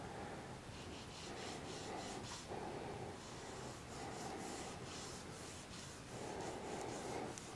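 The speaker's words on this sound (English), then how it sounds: "Now we're going to take our kneaded eraser." A kneaded eraser rubbing back and forth across a charcoal drawing, giving a steady, close, continuous scrubbing rasp with brief pauses between strokes, and no talking.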